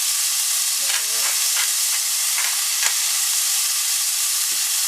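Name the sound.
pierogies frying in a pan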